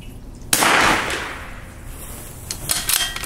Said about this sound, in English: let's go ahead and shoot a second group here